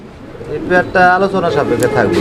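Soft cooing of fancy pigeons, including Andalusians, close by, a series of throaty rolling calls repeating over a few seconds.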